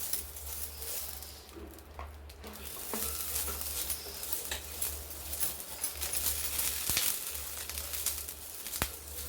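Oil being rubbed with a spoon across a hot dosa griddle, a steady close sizzle with light scraping and stirring strokes running throughout, no talk.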